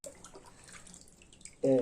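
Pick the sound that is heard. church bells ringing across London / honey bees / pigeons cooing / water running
water running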